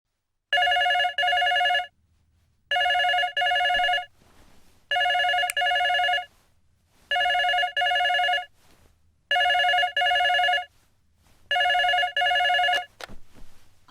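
An old-style telephone bell rings six times in evenly spaced double bursts, clear and close in a quiet room, with no talk.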